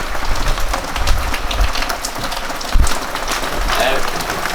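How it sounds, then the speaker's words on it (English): Heavy rain pours steadily onto surfaces during an arborist's workday, a dense loud hiss with occasional thumps, and people talk beneath it. "Definitely feels like actual rain."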